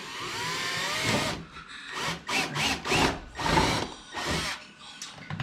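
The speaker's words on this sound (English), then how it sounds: "drilling it like this. I know it's going through the top of that flange and the fender" A power drill whines in short bursts, biting through a Honda CRX fender and its flange with grinding pulses and brief pauses between, close up.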